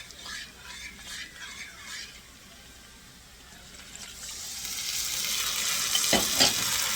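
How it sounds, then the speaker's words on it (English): Orange juice and cornstarch mixture poured over cooked chicken in a hot pan, with a gentle stirring scrape at first, then a rising, steady sizzle that grows louder and hisses on to the end. "now we're gonna be adding our mixture of orange juice and cornstarch"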